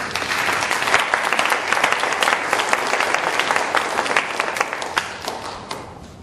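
Audience applause at a cultural lecture: dense, steady clapping from a room of people, close and continuous for several seconds, then thinning slightly at the end, with no talking.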